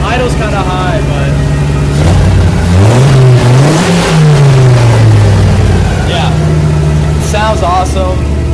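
Turbocharged Audi Coupe GT with an NG EFI conversion revs up and settles back to a high idle, close and loud, with a couple of quick blips toward the end.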